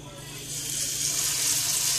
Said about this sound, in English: Hear the nice sizzle.